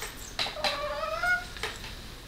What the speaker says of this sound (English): Do you all see this cat?